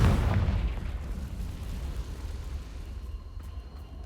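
A Confringo fire spell explosion in Hogwarts Legacy, a loud deep boom at the start that decays into a long, rumbling roar fading over several seconds.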